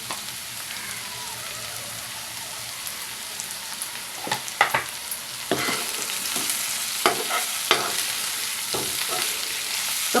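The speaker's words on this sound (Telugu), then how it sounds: "ఒక్క నిమిషం పాటు కారం మొత్తం పట్టేలాగా కలుపుకుందాం." Chili powder being stirred into eggplant curry frying in a pan, a quiet steady sizzle broken by several sharp scraping stirs of the spoon against the pan, close and alone with no talk.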